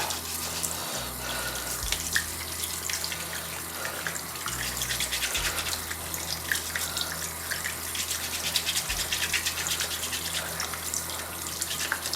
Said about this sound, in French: j'utilise sa brosse à dents pour bien nettoyer